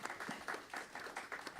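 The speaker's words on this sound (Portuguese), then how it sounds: "Pode bater palmas." Applause from attendees at a general meeting of a strategic development forum, a steady patter of many hands clapping at moderate level for under two seconds, without talk over it.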